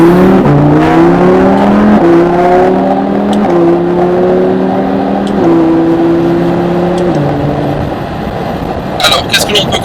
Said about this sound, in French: mettre en branle ce fameux V10, donc moteur qui se trouve derrière nous.